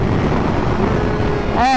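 A Kawasaki Ninja ZX-4RR, a small-displacement 400 motorcycle, roars at high revs on a track, a loud continuous engine note with wind noise that climbs in pitch at the end.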